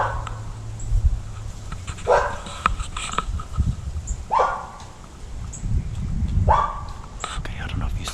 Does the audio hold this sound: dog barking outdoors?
yes